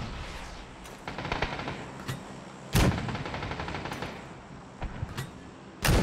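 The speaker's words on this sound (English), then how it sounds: "I'm sending a mortar in" Mortar shells strike in a PUBG match on the Miramar map: several loud, booming impacts burst out of a steady din of distant gunfire, one heavy blast near the middle and another at the very end.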